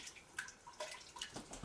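Water from a kitchen tap runs faintly while small potatoes are rinsed, giving soft splashes and scattered drips in a quiet, irregular pattern.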